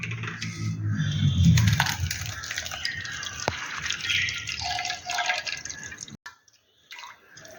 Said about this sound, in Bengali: সুন্দর করে ছেঁকে নিই।